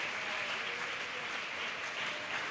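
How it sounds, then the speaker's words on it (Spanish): A church congregation applauds in steady, dense clapping that fills the whole moment evenly, with no voices standing out. "Dele un aplauso bien bonito a Jesús esta mañana."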